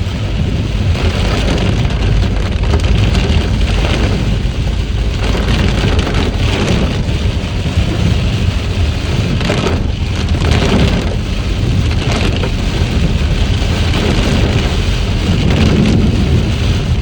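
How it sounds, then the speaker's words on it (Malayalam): Heavy rain pouring down steadily during a cyclone, a loud unbroken roar of downpour with rumbling low tones, close and dense throughout with no voices. "ഇത് മഴക്കാലേ അല്ല, എന്നാലും ഈ നേരത്തെ എന്ത് ഇങ്ങനെ മഴ."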